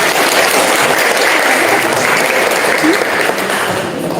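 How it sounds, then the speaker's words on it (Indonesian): Sustained, loud applause from an audience at a live presentation-skills training session for executives, a dense continuous wash of clapping that holds steady for the whole stretch, with a faint voice or two underneath. "Tepuk tangan buat kita semua."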